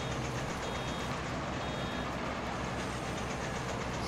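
Hay field machinery emits a faint reversing beep while cutting the first hay on a farm field, buried in a dense, loud, steady roar of engine and mechanical noise that fills the whole stretch.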